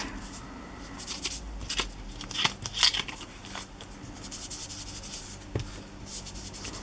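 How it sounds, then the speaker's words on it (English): Vintage photo oxide ink being worked onto the edges of a paper envelope with a tool: soft, scratchy rubbing and brushing strokes in irregular bursts, close and quiet, with no voice. "I'll just distress the edges of this"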